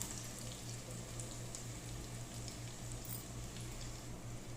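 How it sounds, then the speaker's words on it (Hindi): Cinnamon and cumin fry in hot oil for khichri, a steady soft sizzle and crackle that stays faint and even throughout, with no talking. "अब हम इसको अच्छे से फ्राई कर लेंगे सारी चीज़ों को"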